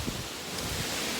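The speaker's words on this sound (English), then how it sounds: "It's getting windy, isn't it?" Steady broadband wind rushing across the microphone, with soft low rumbles and a faint leafy rustle, constant throughout with no voices.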